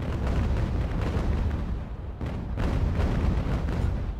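Ship cannons in the Ultimate Admiral: Age of Sail naval game fire in a continuous rolling barrage, with loud overlapping booms and rumble running through the whole stretch and only a brief lull partway.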